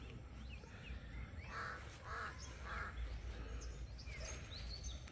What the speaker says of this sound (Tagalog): Mao ni gitawag na mog uwak.